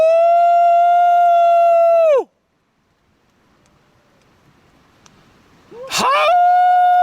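Someone imitates a wolf howl at a rainy wild campsite in Scotland at night: a long, steady, sustained note that breaks off abruptly, a quiet pause, then a second howl rising sharply and holding loud.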